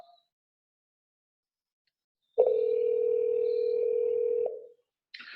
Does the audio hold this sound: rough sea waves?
no